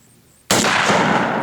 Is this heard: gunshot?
yes